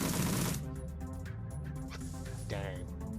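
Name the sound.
full-auto gunfire in the video game Shadowrun: Dragonfall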